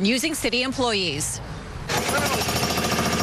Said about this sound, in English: It's a sound you don't hear often enough in the city of L.A., the sound of a jackhammer repairing a sidewalk.